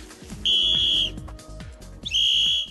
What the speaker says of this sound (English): It's easy to hear the whistle.